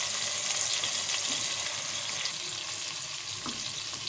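Lightly browned onion and finely chopped tomato fry in a pan, giving a continuous, even sizzle and crackle, close and steady, with a faint stirring scrape near the end.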